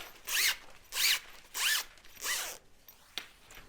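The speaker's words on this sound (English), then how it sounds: "move the slides into the marked sections of the zipper tape" Zipper slides pulled along a length of zipper tape while making custom-length zippers: four distinct rasping zips in steady rhythm, close and clear, followed by a faint click near the end.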